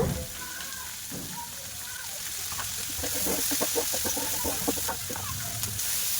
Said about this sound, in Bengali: ভালো করে সবজিগুলো কষিয়ে নেব।